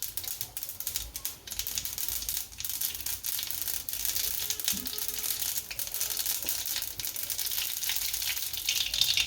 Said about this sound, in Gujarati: હવે તેલ ગરમ થઈ ગયું રાઈ નાખી દેશું